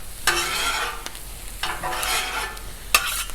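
Sausage and veggies sizzle steadily in a frying pan for a breakfast quesadilla while a utensil stirs and scrapes them around in several strokes, close and moderately loud.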